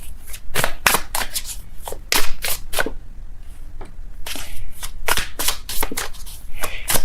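Close, crisp shuffling of a tarot deck, with repeated riffles and slaps arriving in irregular bursts over a light background noise and no talking.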